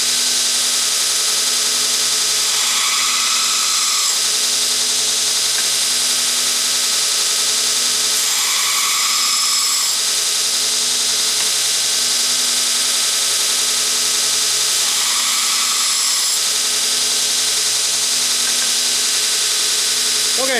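A belt grinder runs continuously as a bevel is ground onto a knife blade, a loud steady whine with the pitch dipping and rising in periodic passes as the steel is pressed against the belt, close up without talk.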